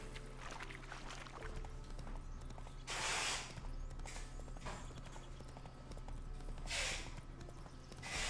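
Horse hooves clip-clopping in the video game The Witcher 3, a steady soft rhythmic trot under game ambience, with a couple of louder rushing swells mixed in.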